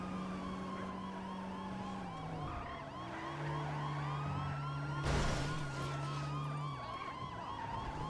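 Emergency vehicle sirens in a video game wail and sweep up and down in overlapping tones, holding steady and fairly close throughout with a brief burst of noise partway through.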